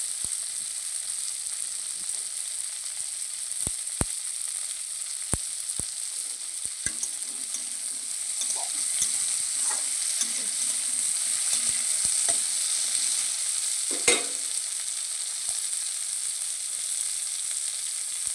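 Spices for a fish curry with cauliflower fry in hot oil, giving a bright, steady sizzle throughout, with sharp clicks and scrapes of a spatula stirring the pan at intervals; no one speaks.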